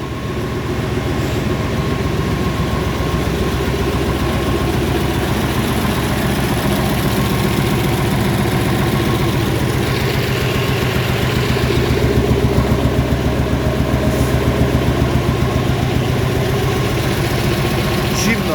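A Massey Ferguson tractor engine idles steadily and loudly throughout, a continuous low chugging rumble with no pauses.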